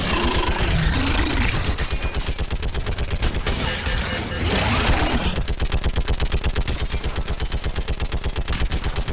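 Loud, sustained automatic gunfire from Mass Effect 3, a rapid steady rattle of shots with brief heavier bursts, filling the whole stretch with no talk.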